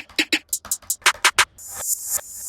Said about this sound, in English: I just pulled up a snare, hat, counter snare, and open hat